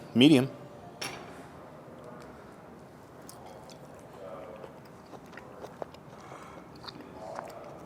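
A knife and fork working through a ribeye steak on a plate, one loud clatter at the start followed by light scattered clinks and scraping, with people talking nearby.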